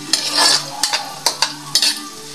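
Minced onion and garlic sizzle in a pan for chicken adobo as a utensil stirs them, giving about five or six close scraping strokes over a continuous loud frying hiss.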